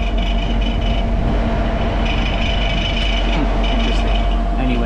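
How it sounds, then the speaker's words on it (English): A commercial bar wine cooler's refrigeration unit running, producing a steady loud hum with faint rattling noise and a sustained tonal whine, constant throughout with no talk. "It actually started, but it is making a little bit of noise."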